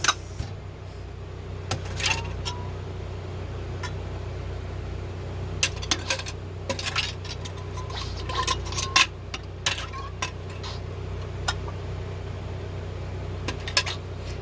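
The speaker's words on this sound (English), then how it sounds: "now I'm going to get the lids and just put them on there" Metal canning lids set onto glass jars of pickled peppers, sharp scattered clinks and taps of metal on glass over a low background hum, some in quick clusters.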